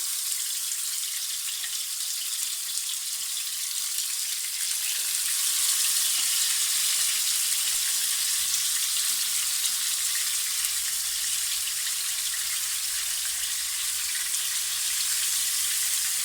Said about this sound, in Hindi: इस तरह से अब हम इन्हें फ्राई करेंगे